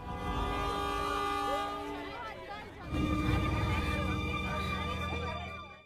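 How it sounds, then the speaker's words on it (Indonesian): Train running on a railway in an Indian film scene, a steady rumbling ride with a horn-like tone, set under background music and murmured voices, loud throughout. "pulang ke kampung halaman menggunakan kereta api"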